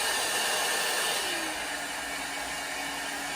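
A Happy Wings hair dryer brush runs on its middle speed setting, a steady close whooshing whir of blowing air whose pitch drops slightly partway through before holding level.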